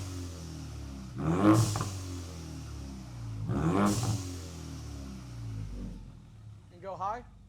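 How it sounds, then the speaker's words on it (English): A cold Ford Mustang EcoBoost with an aftermarket exhaust starts up, giving two rising engine revs that fall back to a rumbling idle, fairly close, with a brief voice at the end. "The car is a little cold, so we'll give it a cold start."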